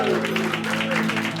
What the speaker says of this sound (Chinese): 让我们掌声欢迎一下，目前进场是我们这边的 PA 大哥刘哥